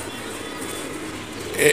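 A pet pigeon at a rooftop loft gives a short coo near the end, soft and close, over faint background noise.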